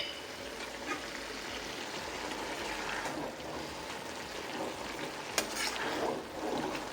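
Prawn curry with new potatoes and tomato cooks in a pan, giving off a soft, continuous sizzle and bubbling, with a few light stirring clicks and scrapes.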